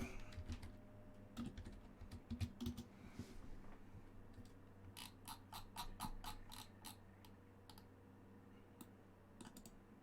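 Fast typing on a computer keyboard, with rapid bursts of key clicks and a cluster of sharper louder strokes near the end, close and fairly quiet over a steady low hum.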